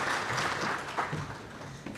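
An audience at a pension supervisors conference applauds panelists returning to their seats, a brief wash of dense clapping that gradually tapers.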